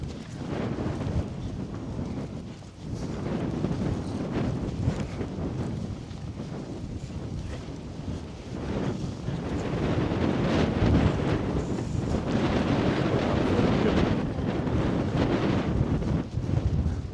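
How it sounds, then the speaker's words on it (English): Gusty wind buffets the microphone on a Lake District hillside, a loud, rough rumble that surges and eases throughout, strongest in the latter half, with no talking. "Oh, a bit windy like."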